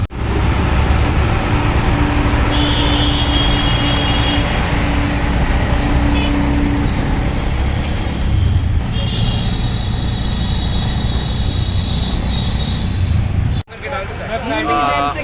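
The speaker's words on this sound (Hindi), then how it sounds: "अभी यहाँ पे ट्रक चल रहा है तो मेरे को लगता नहीं आवाज़ क्लियर आएगी" Vehicle engine rumble, likely a truck running at the ISBT Kashmiri Gate bus terminal in Delhi, fills the scene as a steady, loud roar of traffic, then cuts off abruptly near the end.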